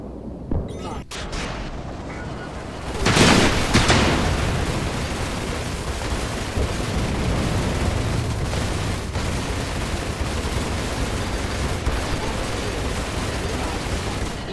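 Ship cannons on an F7A Hornet fighter in Star Citizen's Arena Commander, a sustained stream of rapid gunfire bursts after a loud whooshing blast, with engine noise underneath.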